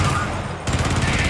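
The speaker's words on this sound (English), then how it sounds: "Don't get shot by the turret, by the way." Turret gunfire in a video game hammers out a rapid stream of loud, close shots that switch on abruptly partway through, over steady game noise.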